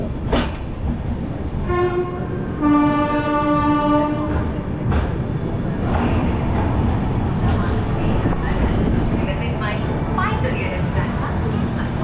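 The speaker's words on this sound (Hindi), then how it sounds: "ये अपनी गरीब रथ एक्सप्रेस ट्रेन यहाँ पे पहुँचाई है" Garib Rath Express train arriving at Yeshvantpur Junction, with a constant rumble of the rolling train, a long sustained horn blast, fainter horn-like tones and rail clatter, while someone talks over it.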